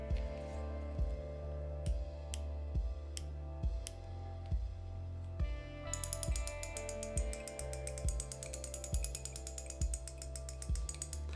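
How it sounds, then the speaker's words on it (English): Clicking from a Daiwa or Shimano fishing reel's drag clutch as it is loosened, a steady run of sharp, evenly spaced ticks up close, quickening into a denser ratcheting rattle in the second half, with no talking. "I will slacken up this reel's clutch just by 3 or 4 clicks now."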